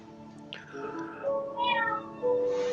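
A cat meows several times in a quiet room, a few rising, drawn-out calls close by that grow louder toward the end, with no talk over them.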